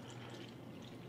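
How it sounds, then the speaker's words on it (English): Water pours onto a tea bag in a brief, faint, steady trickle with no talking. "Watch what happens when I go to pour again."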